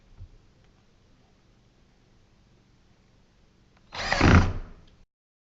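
A drill drives a Kreg pocket screw into wood in one short, loud whirring burst of about a second, up close after near silence.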